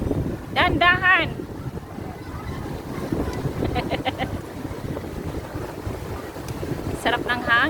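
Steady wind gusts against the microphone at a busy seaside promenade, with a low rumble throughout and several people talking and calling out over it.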